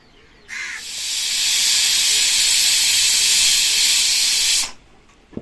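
A pressure cooker cooking beef curry lets out one long, loud hissing whistle of escaping steam, lasting about four seconds before cutting off abruptly.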